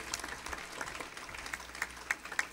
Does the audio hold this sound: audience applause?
yes